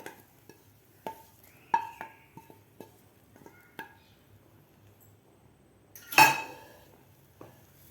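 A metal spoon taps and clinks against a pot in sparse, quiet knocks as ghee-roasted grated carrot is added to boiled milk for carrot kheer. One louder scraping splash stands out near the end.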